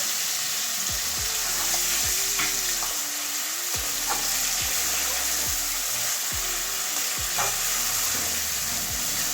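Soft lote (Bombay duck) fish frying with spices in a pan, a steady, moderate sizzle with repeated gentle stirring strokes and faint utensil taps.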